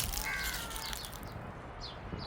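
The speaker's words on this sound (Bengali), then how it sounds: "চারদিকে পাখির কলকল শব্দ" Crows caw and other birds chirp in a park with trees, the calls faint and brief over a steady wash of outdoor background noise.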